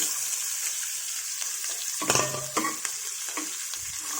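Onion and green chillies fry in hot oil in a pan, a bright steady sizzle with a couple of stirring scrapes and clatters near the middle, close and moderately loud.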